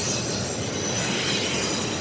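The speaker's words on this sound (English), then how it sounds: "The speed of the train." A train rolls past close by in Stockbridge, Georgia, a loud continuous rumble with faint high wheel squeal over it, steady throughout, on a windy night.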